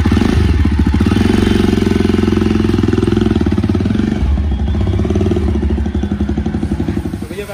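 A Jawa motorcycle engine runs loud and close at a service center, a fast, pulsing clatter that holds steady and then softens slightly toward the end.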